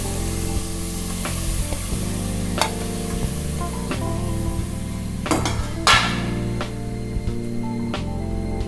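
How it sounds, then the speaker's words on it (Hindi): Mutton (gosht) frying in a pan over a lit flame, with steady sizzling and occasional stirring and clanks under continuous background music. "अब एक पैन लूँगी और फ्लेम को ऑन करूँगी और इसमें मैं ये गोश्त डाल दूँगी।"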